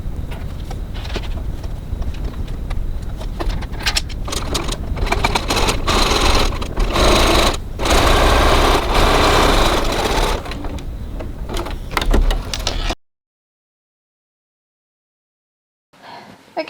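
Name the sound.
sewing machine stitching a wallet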